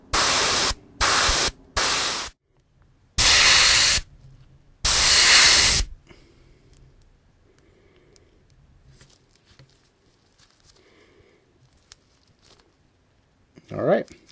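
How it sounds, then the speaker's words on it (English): An airbrush sprays paint onto a Star Wars X-Wing miniature ship, heard as several close, loud bursts of hissing air separated by pauses, then quiet handling noises and a brief soft sound at the end. "I am using an airbrush to do this"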